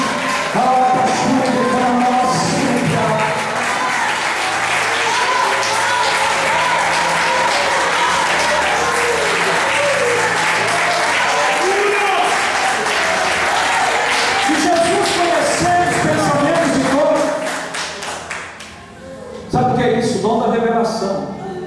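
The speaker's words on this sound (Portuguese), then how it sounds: "vai aplaudir o Senhor nessa noite, em nome de Jesus." A church congregation applauds at an evening service, loud dense clapping with cheering and voices sustained for about seventeen seconds before thinning into scattered claps.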